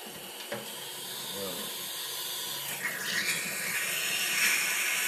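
Air hissing steadily out of a boiling pot, a continuous broadband hiss with water-like bubbling that swells slightly midway, sitting under faint background sounds.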